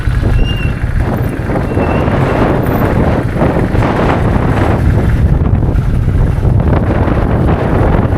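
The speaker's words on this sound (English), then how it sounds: "Oh my god, it's windy." Loud, constant wind roar blasting across the microphone while riding a Kawasaki Vulcan 800 motorcycle at night in San Francisco, heavy and unbroken for the whole stretch, with no voices audible.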